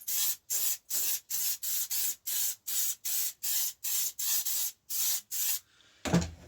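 Silicone shine spray on a PACE RC35 mountain bike suspension fork, a dozen or so short even hissing bursts in steady rhythm, close and crisp, ending with a brief handling rustle.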